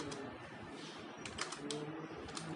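Keys clack on a computer keyboard in a quick, uneven run of light clicks, faint and close with a quiet room hum underneath.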